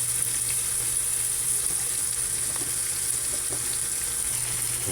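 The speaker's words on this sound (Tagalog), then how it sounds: "ginisa na natin ating bawang, luya, bawang" Garlic and ginger sauté in a hot pan with a steady, loud sizzle of frying oil, a low continuous hum underneath and the occasional faint stir, with no talking.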